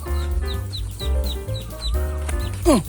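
A hen clucks in a steady series of short, close calls, with faint chick peeps above and a brief louder squawk near the end.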